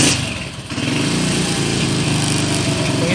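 A Honda Win motorcycle engine idles loudly and close by, a steady buzzing drone that dips briefly then holds an even running note throughout.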